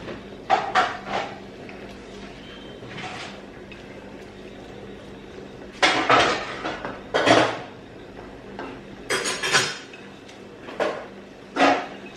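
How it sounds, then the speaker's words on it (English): Okra going into a cooking pot in a home kitchen, with several sharp clattering impacts and scrapes of pot and utensils at irregular intervals, fairly close and loud against a quiet background hum. "So now I'll have to put in my okra."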